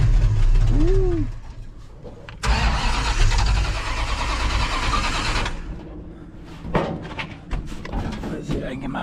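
An International Scout engine cranks, catches and roars to life with a burst of revving, then settles into a rough idle with a few throttle blips, while someone talks nearby before and after.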